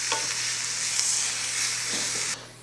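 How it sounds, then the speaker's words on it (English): Jalapeno and shallot sautéing in a pan, a dense, close hiss of frying oil with faint stirring scrapes, steady until it cuts off abruptly near the end, no voices. "Just gonna saute these until they get soft and the shallots look caramelized"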